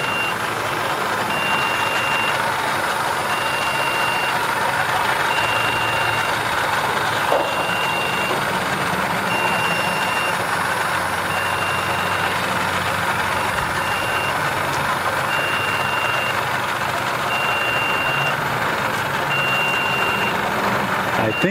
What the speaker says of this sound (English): I think that's that jet ski making that noise over there, that beeping noise.